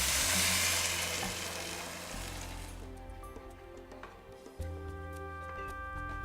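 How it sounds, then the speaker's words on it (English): Vegetable stock poured into a pan of butternut and spinach soup base, a loud broad sizzle at first that fades into softer bubbling and occasional stirring clinks and scrapes, with no talking. "Now we add 1 liter of vegetable stock."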